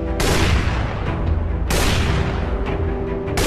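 Three loud, sharp sniper rifle shots in the VR game Battle Talent, spaced about one and a half seconds apart, each a booming blast with a short decaying tail over continuous game noise.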